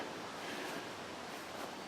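Steady, broad rushing wind on a cool, cloudy day in Barre, Massachusetts fills the whole stretch, a constant roar buffeting the microphone with no pauses or other sounds.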